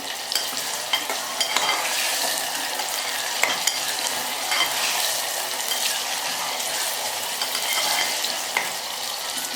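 Sliced dry onions and green onions sauté in a pan for a mixed winter curry of green chickpeas and pigeon peas, giving a steady close sizzle broken by repeated spoon scrapes and stirring clicks, with no talking.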